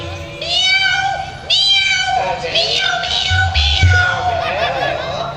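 A voice imitates a cat during a Sundanese wayang golek puppet show, giving several drawn-out meows in a row, with laughter and chatter from people nearby.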